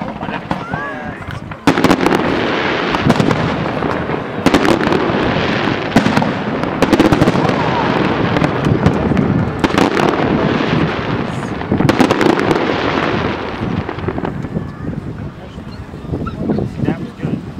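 A fireworks display bursts nearby at a fire truck rally, loud booming and crackling explosions repeating in rapid volleys for most of the stretch, with people talking in between.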